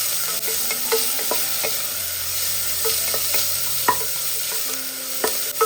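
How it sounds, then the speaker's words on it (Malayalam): Crushed ginger and shallots being stirred in a hot pan, giving a light sizzle with frequent spoon clinks and scrapes against the metal, close by and with no speech. "1 ഇഞ്ച് വലിപ്പത്തിലുള്ള ഇഞ്ചി ചതച്ചത് ചേർത്ത് കൊടുക്കുക. ഇതിലേക്ക് ഒരു 10 ചെറിയ ഉള്ളി ചതച്ചിട്ടെടുത്തതാണ്, അതും കൂടി ചേർത്ത് കൊടുക്കുക."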